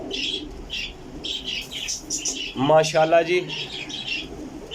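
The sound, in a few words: pigeons cooing and flapping wings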